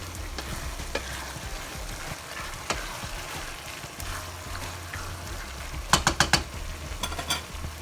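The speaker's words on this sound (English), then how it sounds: "So we cook it down a little bit" A flour-thickened shepherd's pie sauce bubbles and sizzles steadily in a pan, with occasional stirring scrapes and a quick run of sharp spoon clinks near the end.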